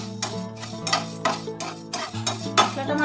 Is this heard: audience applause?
no